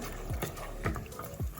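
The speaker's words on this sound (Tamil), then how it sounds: "இதில் வந்து ஒரு அரை கப் தண்ணி விடுவேன்" Half a cup of water poured into a pot of chickpea curry, a short close splashing pour with a few rising gurgles, brief and without talk.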